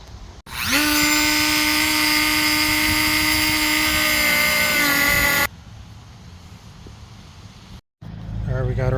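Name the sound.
power tool cutting a vehicle bumper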